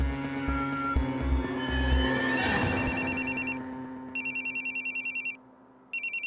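A mobile phone ringtone plays in repeated electronic bursts with short gaps, loud and close, following some low thumping at the start.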